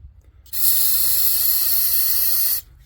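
Aerosol cleaner sprays onto a Chevrolet Silverado throttle body in one continuous, loud, close hiss lasting about two seconds, beginning and stopping abruptly, with quiet before and after and no talking.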